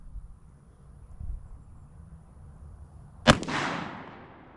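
A single loud gunshot from a Ruger Blackhawk .44 Special revolver firing a 2400 powder test load, a sharp crack with a short trailing echo after a quiet stretch.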